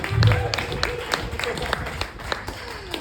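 A crowd of audience members in Bali applauds, a steady patter of many hands with sharper individual claps near the front and a host's voice coming through over it.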